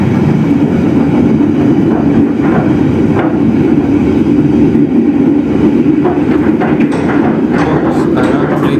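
Senja Utama Yogyakarta passenger train running straight through Lingapura station without stopping, a steady loud rumble of wheels and carriages throughout with faint rhythmic clatter.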